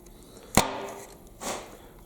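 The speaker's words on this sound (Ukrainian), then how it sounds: "щоб ви розуміли силу удару, з якою діє, скажімо так, цей пневмозворотній молоток" A pneumatic slide hammer strikes while removing diesel injectors, giving one sharp loud metallic impact followed by a second softer, duller blow about a second later.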